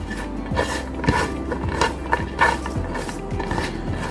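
Chopped onions and sumac are tossed and stirred in a bowl, giving close, soft rustles and light clinks and taps of utensils against the dish over a low background hum.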